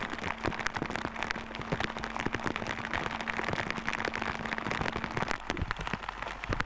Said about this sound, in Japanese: 姿を隠し、音と匂いを消してくれる土砂降りの雨は絶好のチャンス。